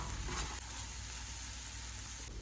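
Okra stir-frying in a pan with turmeric and curry leaves, a steady close sizzle under light scraping of stirring, continuous throughout with no talk.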